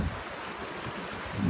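Ocean waves roll along the Australian coast as a steady broadband wash, with wind buffeting the microphone and a heavier surge at the start and end, and no voices.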